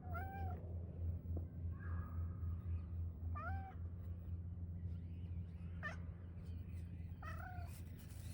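A cat meows about five times, short rising and falling cries spaced a second or two apart, over a steady low background rumble.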